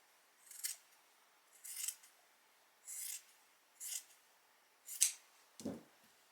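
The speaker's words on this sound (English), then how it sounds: "So I'm going to go ahead and cut that off the one sleeve." Scissors snip through a flannel shirt sleeve in six separate crisp cuts at an even pace, close and fairly quiet, with no one talking.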